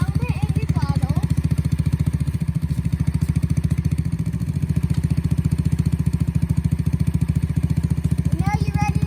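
A dirt bike engine runs at a steady idle with the choke shut off, a close, loud, rapid rhythmic putter, with brief faint voices over it.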